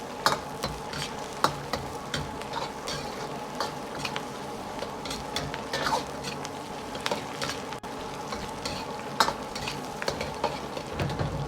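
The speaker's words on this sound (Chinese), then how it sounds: "接着下入八角、葱姜蒜，" Star anise, scallion, ginger and garlic stir-frying in a wok, with a steady close sizzle broken by frequent sharp scrapes and clacks of the spatula against the pan, with no voices.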